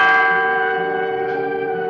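Church bells ring out in a sustained, resonant peal with layered tones, a fresh strike joining partway through, loud and alone without voices.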